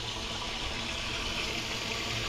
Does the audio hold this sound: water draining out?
yes